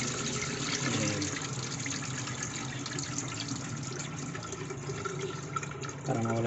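Tap water runs steadily into a sink while rice is rinsed for a final wash, a continuous close splashing wash of noise with a brief louder surge near the end.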